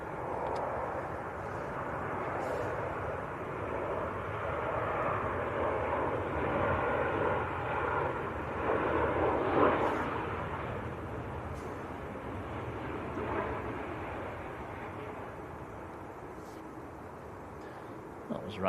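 A Ryanair airliner from Dublin rumbles at Manchester Airport, a broad, moderately distant engine roar that swells and fades slowly, with faint talk in the background.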